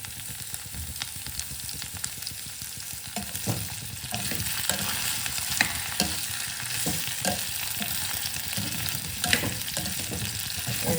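Ginger sautés in a pan for a tangy ginger thokku, with a continuous loud sizzle and frequent scraping stirs that grow busier after the first few seconds.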